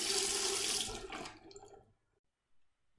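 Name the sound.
water running to wet a finger for the singing wine glass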